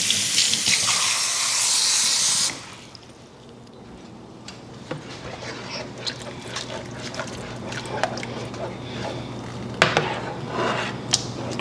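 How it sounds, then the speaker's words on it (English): Water pours with a loud rushing hiss into a cooking pot of catfish étouffée for a couple of seconds, then stops, leaving quiet clinks and small ticks of the pot on the stove. "We're gonna add us a little bit more water"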